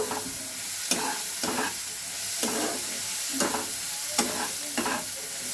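Semolina pasta being stirred in a sizzling pan with oregano, a low frying hiss broken by about eight regular spatula scrapes, close and clear.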